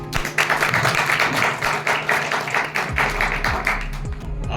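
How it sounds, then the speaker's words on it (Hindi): An audience at a church youth meeting claps steadily in welcome for the pastor, sustained dense applause that starts to thin out toward the end. "अब हम सब तालियों के साथ स्वागत करेंगे पास्टर जी का"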